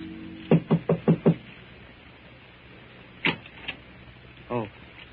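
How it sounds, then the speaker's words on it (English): Five quick knocks on a door ring out close and crisp as a radio drama sound effect, followed by a few sparser thumps and a door-like creak. "makes his way through the maze of Paris traffic and knocks at the door of number"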